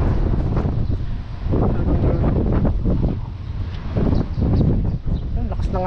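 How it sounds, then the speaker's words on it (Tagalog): Strong gusting wind buffets the microphone outdoors in a continuous loud roar, with voices talking beneath the rushing noise. "Ang lakas ng hangin."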